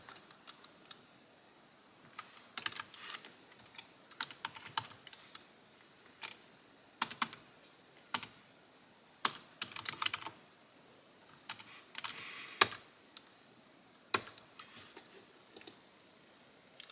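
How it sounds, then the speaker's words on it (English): Terminal commands being typed on a computer keyboard for a Raspberry Pi gaming setup: irregular bursts of crisp key clicks and sharper keystrokes, moderately close, with short pauses between runs and no voices. "So first we just need to type sudo apt update."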